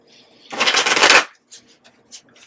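A deck of Ghost Tarot cards is shuffled in one dense burst of riffling and fluttering lasting under a second, close by, followed by a few soft card taps and handling sounds.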